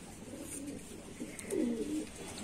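Pigeons coo nearby in a low, rumbling murmur that swells briefly near the middle, several birds blending into a steady background hum.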